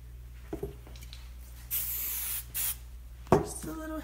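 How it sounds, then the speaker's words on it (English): A can of hairspray gives two short, soft hissing bursts onto a West Highland White Terrier's coat while the dog is groomed for a show, heard close up in a quiet room with faint handling noises. "Just a little hairspray there."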